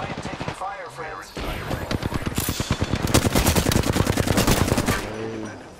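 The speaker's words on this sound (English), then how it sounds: "am taking fire, friends" Rapid automatic gunfire in the shooter game Apex Legends, a loud, fast rhythmic burst of shots lasting several seconds, with voices talking before and after.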